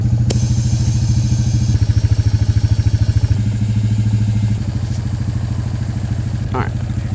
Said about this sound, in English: I'll let this idle for a while.